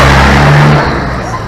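A heavy truck with a tampered exhaust rumbles close by on a city avenue with a loud, harsh exhaust drone that eases off as it moves along.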